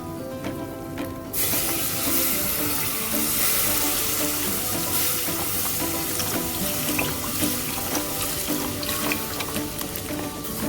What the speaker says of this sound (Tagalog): so lagyan na natin ng gatas